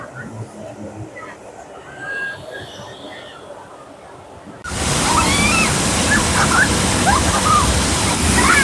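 Hot water jetting from the Cisolok geyser beside the Cikampak river in West Java: a loud, steady rushing spray that bursts in abruptly midway and continues, with people talking nearby over the roar.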